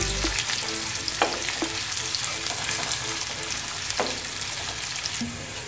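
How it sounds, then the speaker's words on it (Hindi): Finely chopped onions frying toward light golden in a pan for moong dal: a dense, continuous close sizzle with occasional stirring scrapes and taps, and no speech. "मैं कट की हुई जो मैंने बारीक प्याज रखी थी वो मैं डाल दूँगी इसको हम थोड़ा फ्राई करेंगे लाइट गोल्डन"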